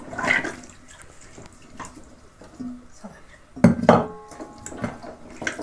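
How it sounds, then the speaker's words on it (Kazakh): Beef or mutton bones rinsed with cold water in a metal pot before making bone broth: splashing water, with a louder burst of clattering and sloshing near the middle and low murmuring around it. "Алдымен сүйегімізді салқын сумен жуып тазалап аламыз."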